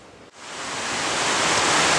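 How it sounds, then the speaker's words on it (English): Heavy creek water runs fast behind a workshop, a dense, continuous roar of rushing flow that swells in quickly and holds steady, close and loud with no talking. "The water behind my shop is running pretty heavy today."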